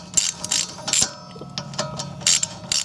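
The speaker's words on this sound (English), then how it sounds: "Now this is a 8mm socket. Will take care of this here bolt." A ratchet with an 8mm socket clicks in quick bursts while it loosens a bolt on the rear brake of a Ford Escape. The clicking is close and dry, and there are brief pauses between the runs.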